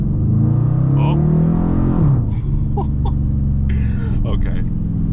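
A 5.7-liter V8 engine in a Dodge Challenger R/T revs up loudly with a deep rising roar, then drops off as brief voices speak over the lingering rumble.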